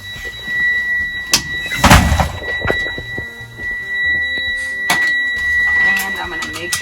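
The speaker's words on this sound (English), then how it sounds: "I'm gonna close my door, making sure my door is closed before moving that bus." A transit-style school bus door swings shut with a mechanical clunk and rattle amid cab noises and a soft chime, while a driver talks through the pre-trip check.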